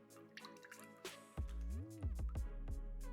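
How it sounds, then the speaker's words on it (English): Fresh tomato juice is pushed through a fine mesh sieve by hand or with a rubber spatula, giving close, wet squishes and scattered drips, with a voice murmuring faintly in the background. "make sure you push through all the juice through that sieve."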